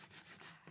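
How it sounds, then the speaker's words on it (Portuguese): Sandpaper rubbed by hand over a wooden clothes hanger being distressed for a patina finish, a steady close scratchy rasp in short back-and-forth strokes with no talking. "Então, ó, lixa bem."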